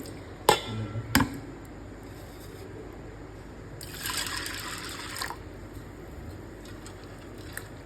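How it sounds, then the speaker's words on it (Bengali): Chana dal being rinsed in water before soaking in a home kitchen: a couple of sharp splashes and clinks early, then a stretch of running, pouring water, with quiet room noise between. "ডালটা ওই জন্য ভিজিয়ে রেখে দিচ্ছি ভালো করে ধুয়ে একটু ভিজিয়ে"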